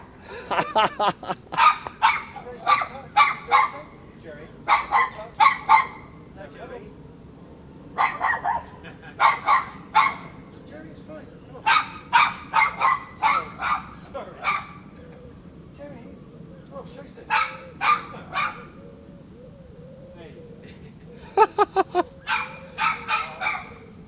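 Dogs bark in repeated bursts and clusters of loud, sharp barks with short pauses between them, some yips mixed in, against a low background rumble.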